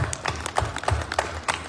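Crowd applause at an outdoor political rally in a town square, a burst of scattered, uneven claps at close range, fairly light and short.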